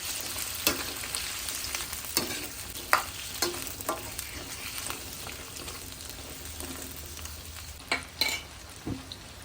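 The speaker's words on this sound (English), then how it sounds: "Heat the oil in the wok over medium-high heat. Add pumpkin chunks and continue to deep fry for 2 to 3 minutes." Pumpkin chunks deep frying in hot oil in a wok, a steady faint sizzle broken by scattered clicks and scrapes of stirring, with no voices.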